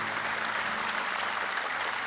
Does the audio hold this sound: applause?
yes